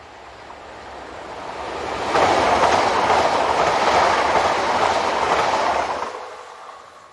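A French multiple unit, number 27802, on a Nancy to Lunéville service passes nearby, its rumble swelling up, holding loud with rhythmic wheel clatter over the rails, then dropping away as it leaves.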